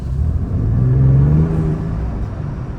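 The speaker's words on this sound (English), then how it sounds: "the exhaust that you're hearing, that's not getting pumped in through the speakers. That's real exhaust sound." A 2024 Ford Ranger Raptor pickup truck's real engine exhaust, heard from inside the cab, rumbles low and steady, swelling briefly in a deeper drone before settling back to a constant hum.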